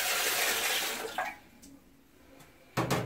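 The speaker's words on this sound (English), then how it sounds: "I'm going to wash them with cold water just to remove some sand and also to remove some scent or smell" Cold tap water rinses fresh sardines in a kitchen: a steady splashing stream runs for about a second, trails off into quieter dripping and handling, then starts again with a brief gush.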